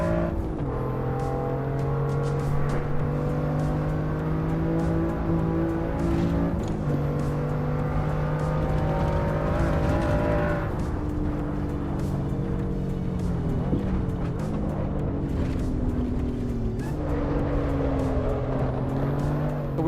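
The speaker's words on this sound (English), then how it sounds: "We're driving the M2 competition right now." A BMW M2 Competition races in a driving video game, its engine a loud, steady droning whine that holds and shifts pitch through gear changes, with brief tire squeal near the middle and end.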